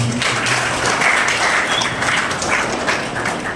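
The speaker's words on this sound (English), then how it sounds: "Let us clap for each other." Audience claps at a felicitation ceremony honouring 10th and 12th grade toppers, a steady, moderately loud patter of many hands with faint voices mixed in.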